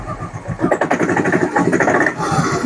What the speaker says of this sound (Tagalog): Ayan yung parang kumakatok.